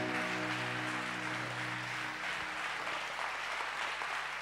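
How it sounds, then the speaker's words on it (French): A church congregation applauds for Jesus Christ at a Resurrection Sunday service: a steady wash of many hands clapping, with a sustained musical tone beneath it for the first half. "On acclame Jésus Christ."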